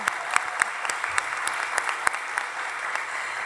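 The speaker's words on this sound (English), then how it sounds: "So please give us a round of applause to Mr. Will Jimerson, Andrew McGraw" Applause at a master's graduation celebration, a fairly thin crowd clapping steadily with distinct individual claps standing out, consistent level throughout, no speech.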